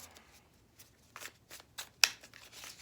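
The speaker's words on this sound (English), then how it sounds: "have to hold the cards like this to shuffle" Tarot cards shuffled by hand in a quiet room, giving a series of soft, dry riffling swishes and light taps at an uneven pace, close and faint, with one sharper snap near the end.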